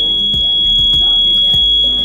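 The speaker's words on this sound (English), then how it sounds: "touch the kill switch, turns off the lights, and it will turn on the buzzer" A toy model rescue helicopter's buzzer sounds a continuous high-pitched electronic tone through the whole clip, with soft bumps and handling knocks beneath.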